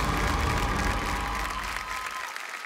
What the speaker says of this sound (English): We have a huge round of applause and thank them for joining us here tonight.